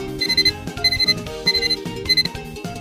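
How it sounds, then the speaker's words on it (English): An alarm clock ringing in four repeated bursts of bright, rapid bell-like chiming, loud and close, with short gaps between bursts and no voices. "Is this alarm clock?"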